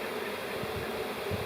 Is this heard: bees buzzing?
yes